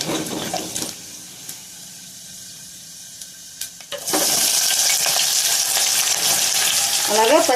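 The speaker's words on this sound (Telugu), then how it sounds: "ఆయిల్ వేడెక్కింది. ఫస్ట్ తాలింపులు వేసుకుందామండి." Spices tempering in hot oil for an ivy gourd curry: quiet kitchen stirring gives way to a sudden loud, steady sizzle that holds on close and continuous.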